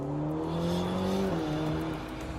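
Ferrari GTC4 Lusso T V8 accelerating hard after a downshift, engine note climbing in pitch, briefly dropping at a gear change, then pulling again, loud and sustained from inside the car.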